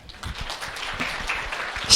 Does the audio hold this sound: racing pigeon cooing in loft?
no